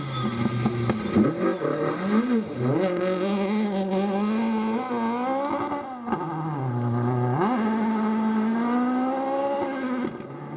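Mitsubishi Lancer Evo Mark II rally car with a freshly rebuilt engine revving hard on a Snowman Rally stage, loud and close, climbing and dropping through gear changes without pause.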